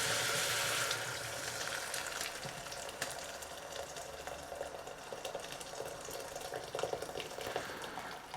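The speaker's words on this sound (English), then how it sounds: "Now I'm going to throw the rest of the water in." Water pours and splashes into a pan of cooking vegetables with a steady rushing sound, over a soft sizzle, louder at first then settling.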